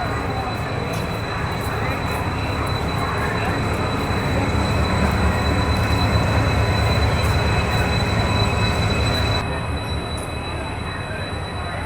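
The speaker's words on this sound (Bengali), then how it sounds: "বেশ কিছুক্ষণ দেরিতে দেখা মিলল হাওড়া চক্রধর এক্সপ্রেসের।" The Howrah Chakradharpur Express pulls into a station platform with a loud, continuous rumble of wheels and carriages and a high metallic whine on top, easing slightly near the end.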